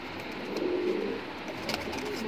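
Teddy Cross pigeons cooing in a loft, a low soft murmur of coos held steady through the clip against a constant background hiss.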